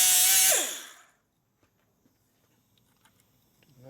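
A grinder works across the face of a Harley Sportster Ironhead kicker gear in one loud, close burst that winds down within a second, leaving near silence with a few faint taps.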